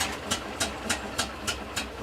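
A restored wartime half-track's engine runs after starting, giving a steady mid-level idle with a regular rhythmic knock about every third of a second, moderately close, with no speech.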